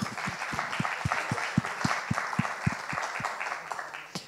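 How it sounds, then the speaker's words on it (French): An audience at a conference on rooftop rainwater reuse in Corsica applauds steadily, a dense patter of many hands with some individual claps standing out, moderately distant and sustained for several seconds. "on peut l'applaudir"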